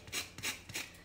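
Lemon peel is zested over a no-bake lemon cheesecake in three quick, close rasping strokes, each a short dry scrape against the grater.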